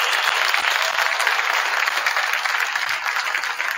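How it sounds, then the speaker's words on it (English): A gathered crowd at a celebration for state champion high school wrestlers claps in a loud, dense, steady burst of applause, close and continuous, with no talking over it. "Please give them a round of applause."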